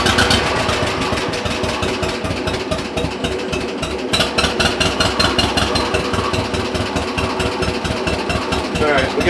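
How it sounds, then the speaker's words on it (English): A John Deere 420 tractor engine runs at low idle close by, a steady rapid chugging pulse that holds an even rhythm throughout. "we got her on a low idle, so hopefully you can hear me"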